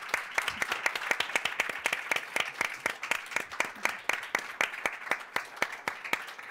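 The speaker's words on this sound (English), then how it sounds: "One more round of applause" Modest audience clapping at the close of a community talk, sparse enough that individual claps stand out in a quick, uneven rhythm, moderately close and steady throughout.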